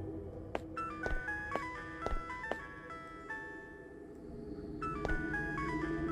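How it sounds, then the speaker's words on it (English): A melodic electronic mobile phone ringtone in the video game Araya chimes repeatedly in rising and falling tones over a low ambient hum, with a few sharp clicks between phrases. "Whose mobile was ringing?"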